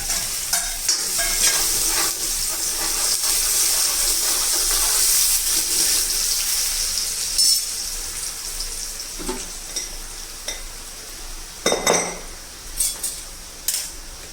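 Asafoetida and green garlic sizzling in hot oil while being stirred: a loud, bright sizzle that gradually eases, followed by a few sharp metallic scrapes and clinks of a spoon against the pan.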